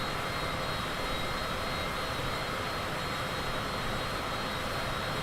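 A Cessna's engine drones steadily in a flight simulator, a constant broadband cockpit roar with no pauses or changes in level, heard alone.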